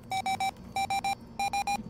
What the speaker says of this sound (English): There's our prox alarm.